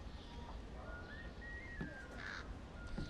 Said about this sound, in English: Sudden movements near birds will disturb them,